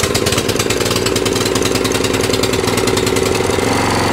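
Qualcast 35s cylinder mower's small petrol engine at full revs, a loud, harsh, rapid buzzing roar that holds steady and close throughout.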